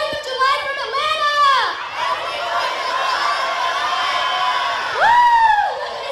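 A crowd at a Fourth of July gathering in Atlanta cheers and shouts, with loud rising whoops and voices swelling at the start and again near the end over a steady murmur of excited people.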